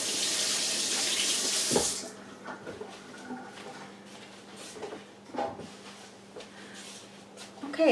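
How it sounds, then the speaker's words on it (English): Tap water runs briefly into a kitchen sink as fingers are rinsed off while baking a black walnut coffee cake, a short gush at the start that fades into quiet room sounds. "let me rinse my fingers off"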